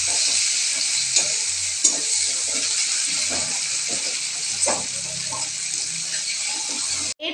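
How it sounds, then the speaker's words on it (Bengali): Onions fry lightly in a pan, a steady close hiss with scattered stirring scrapes running throughout, no voices over it. "আর দিচ্ছি পেঁয়াজ। দিয়ে হালকা ভেজে নিতে হবে।"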